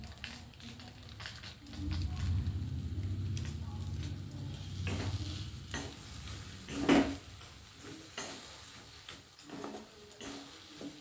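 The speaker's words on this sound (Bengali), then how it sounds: "আবার আমি খুব ভালো করে সমস্ত কিছু উপকরণ একসঙ্গে মিশিয়ে দিচ্ছি। এইভাবে নেড়ে নেড়ে নেড়ে নেড়ে এটাকে শুকিয়ে ফেলে তৈরি করতে হবে।" Eggplant and egg stir-fry with curry spices in a pan, giving a quiet sizzle with soft scraping and stirring strokes and the occasional clink of a utensil, while a voice talks faintly in the background.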